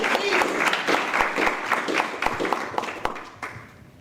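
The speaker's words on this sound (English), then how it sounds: "Please clap for everybody coming in." Audience applause at a candidates meeting, a crowd clapping with individual sharp claps standing out and gradually thinning toward the end, while voices murmur underneath.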